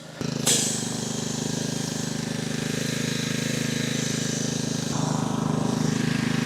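Pressure washer spraying down a Polaris side-by-side, a loud continuous hiss and motor drone that starts abruptly and holds steady at close range throughout.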